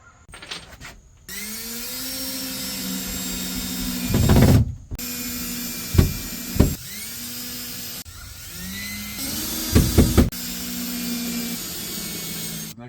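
A power tool whines steadily while cutting notches into shelf boards at the stud positions for a shed bench, with several sharper bursts where the blade bites into the wood, loud and close.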